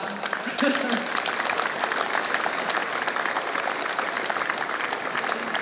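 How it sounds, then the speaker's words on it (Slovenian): An audience applauds performers, a singing group and a Slovenian Army orchestra quintet, at an air force and air defence brigade celebration; dense steady clapping from many hands continues throughout with a faint voice briefly at the start. "Vsem skupaj aplavz."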